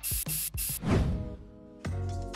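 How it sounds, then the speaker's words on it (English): A car coating sprayed onto a surface from a can: three quick, loud hissing bursts, then a rattling clatter and a longer final hiss, close up with no talking. "It's applied by spraying"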